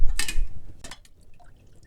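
Beef bone broth drips into a pan with a couple of brief liquid splashes near the start, then fades to faint, sparse drops in a quiet kitchen.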